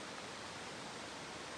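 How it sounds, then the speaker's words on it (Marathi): Steady broadband rush of the Vadgaon waterfall, a continuous even roar of falling water with no voices over it. "काहीच पाण्याचा आवाज येत असेल"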